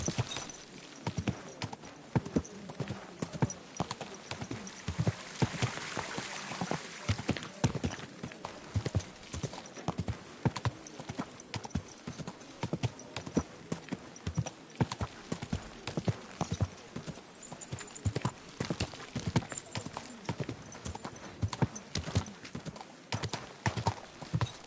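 Horse hooves clip-clop in a steady, continuous rhythm, close and fairly quiet, with faint background noise throughout, in the video game Kingdom Come: Deliverance II.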